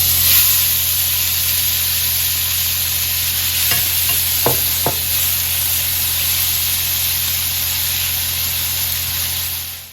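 Tomatoes, anchovy paste, capers and olives sizzle in a pan for a Provencale sauce, a steady hiss under a stirring pass and a few sharp clinks of a utensil partway through. No voices.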